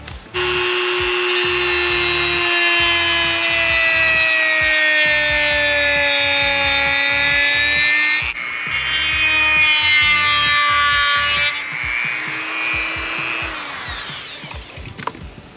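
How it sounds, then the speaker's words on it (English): A handheld Dremel rotary tool grinds material away, a loud, steady high-pitched whine running continuously with slight shifts in pitch as the load changes, briefly dipping before winding down near the end. "So now we're just gonna go in and Dremel this away"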